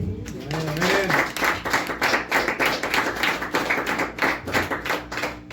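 A church congregation claps hands as an offering to the Lord during a sermon, a loud, rhythmic run of sharp, in-time claps after a brief voice at the start.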